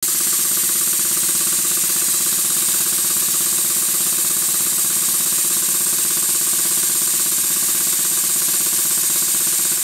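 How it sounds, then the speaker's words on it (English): A repaired Southworth 12 inch steam pump runs steadily on test, its fast, even mechanical pounding and hiss continuing unbroken at close range with no voices. "Time to test the pump again."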